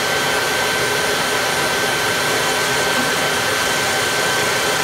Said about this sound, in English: Right now, the motor is running at full speed.